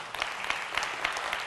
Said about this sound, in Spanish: Das un aplauso.